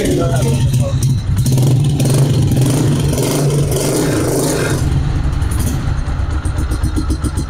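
A Bullet motorcycle engine thumps steadily at idle close by, loud and rhythmic, with a person talking over it.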